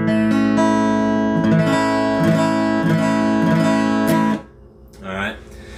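Acoustic guitar strumming a chord from a song in a steady rhythm, close and clear for about four seconds before it cuts off, followed by a short spoken sound.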